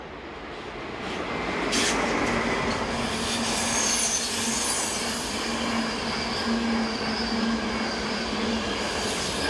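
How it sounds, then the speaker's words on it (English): Electric locomotive 185673 hauls an empty excursion train toward Bad Schandau, rumbling loudly past at close range with sustained wheel squeal and steady rolling noise. "185673 is on private hire duties, as it takes this empty excursion train down to nearby Bad Schandau"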